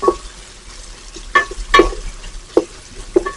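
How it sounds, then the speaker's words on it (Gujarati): Three medium sliced onions sauté over medium-low heat. A quiet, soft sizzle sits under several sharp, separate clinks and scrapes as a spatula stirs them in the pan. "અને સતત ફેરવ્યા કરીશું કે જેથી ઓનિયન કોઈ બાજુથી ચોંટે નહીં, સરસ શેકાય બધી બાજુથી"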